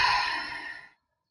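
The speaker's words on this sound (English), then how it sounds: "Exhale." A single long, audible exhale during morning qigong practice, a close breathy sigh fading out in under a second.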